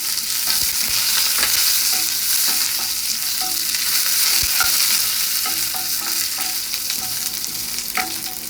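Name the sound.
curry leaves frying in oil for Kerala sambar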